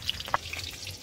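Fish frying crisply in a pan of hot oil in a village kitchen, a soft steady sizzle with small pops, faint and close, brief.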